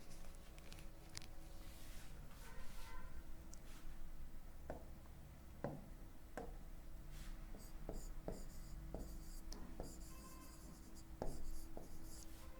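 Chalk or marker writing out a physics definition on a board: a series of soft taps and scratchy strokes in irregular rhythm, faint in a quiet room.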